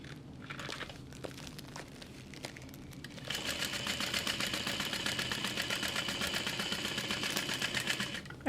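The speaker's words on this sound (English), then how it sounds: "I'm just gonna sew all the way around." A sewing machine stitching around a clear vinyl waist pack with a glitter shaker panel, starting with some crinkling handling and then running steadily in a fast, even rattle of needle strokes, close and fairly quiet.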